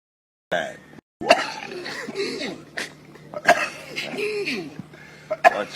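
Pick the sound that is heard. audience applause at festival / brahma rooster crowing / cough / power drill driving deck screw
cough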